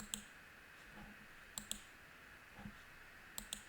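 Sparse computer mouse clicks while building a simple Power BI dashboard, a few sharp taps in quick pairs at irregular intervals, quiet against a faint room hum.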